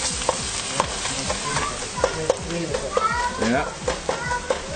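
Food frying and being stirred in a pan for a Somali dish, with sizzling under repeated sharp scraping strokes of the spoon, close and fairly loud, while a voice speaks briefly.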